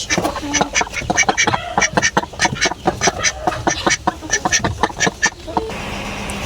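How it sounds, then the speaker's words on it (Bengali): Ducks on a farm quack loudly and nearby in rapid, repeated bursts, several birds calling over one another almost without pause until a quieter stretch near the end. "এই হচ্ছে হাঁস।"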